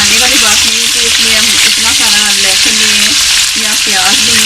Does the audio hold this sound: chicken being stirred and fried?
yes